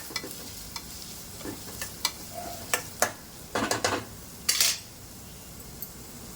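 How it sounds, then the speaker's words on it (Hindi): Vegetables sautéing with garlic in a pan with a soft sizzle, punctuated by scattered scrapes and clinks of a utensil stirring, close and fairly quiet. "सारी चीज़ों को इसके साथ में लहसुन के साथ में जैसे फ्राई हो जाएगा सौटे कर लेंगे हम अच्छे से"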